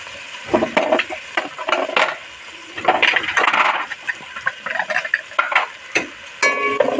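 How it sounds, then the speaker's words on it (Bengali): Ground turmeric, cumin, coriander and dried chilli powder fry in a pan while a utensil stirs and scrapes them in loud, irregular bursts, with a steady sizzle in between. "ভালোভাবে মশলাগুলো একটু আমি ভেজে নেবো"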